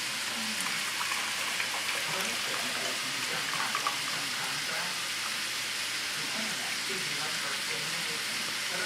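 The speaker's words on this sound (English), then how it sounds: "we're going to just strain that stock right over them" Chicken stock is strained over dried lima beans in a pot, giving a steady, close hiss of pouring and sizzling liquid that stays even and continuous throughout.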